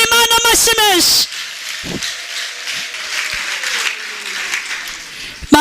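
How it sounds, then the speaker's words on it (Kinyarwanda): A church congregation breaks into sustained applause, a steady wash of many clapping hands that lasts several seconds right after a preacher's loud voice cuts off. "Abumvise iri jambo dukomere Imana amashyi menshi"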